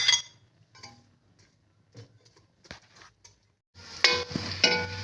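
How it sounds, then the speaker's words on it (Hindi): Onions fry in oil in a kadhai, with light clinks and scrapes of a spoon stirring them, scattered sparse ticks, then a louder burst of sizzling and stirring near the end. "कढ़ाई में हम प्याज डालकर इनको भून लेंगे, ब्राउन कर लेंगे।"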